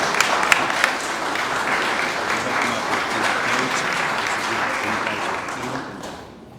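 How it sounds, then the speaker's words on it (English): A large audience in Philadelphia gives strong, sustained applause welcoming the President of Namibia. The clapping holds steady, then tapers off at the end. "Let's give a real big round of applause"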